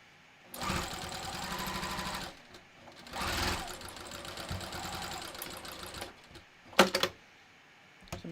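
A sewing machine double-stitches a leather road-trip wallet in loud bursts of rapid mechanical chatter, with a brief pause between runs and a sharp clunk near the end.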